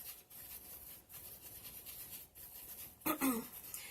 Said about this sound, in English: I'll just rub it on a tissue.